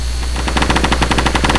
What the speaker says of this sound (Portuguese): Tá atirando em mim, ó.